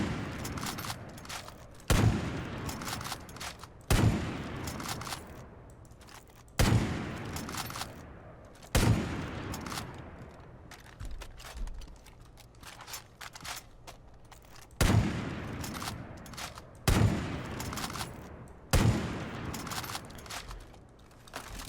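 A sniper rifle fires in a video game editor, seven or eight sharp, loud reports spaced roughly two seconds apart, each one trailing off in a long echoing tail before the next shot, with no talk over them.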